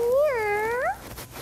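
A young voice imitates a cat with a single drawn-out meow, rising and falling in pitch, close and clear.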